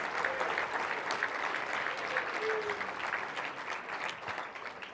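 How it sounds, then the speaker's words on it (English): Steady applause from an event audience at a live breakfast fundraiser in a resort venue, dense and sustained throughout at moderate level, with no talk on top. "Give these two a round of applause"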